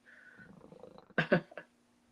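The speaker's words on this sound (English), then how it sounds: "Oh yeah, you can hear it purring." A cat purrs close by in a quiet room, a soft continuous rumble broken near the end by a few louder, rougher bursts.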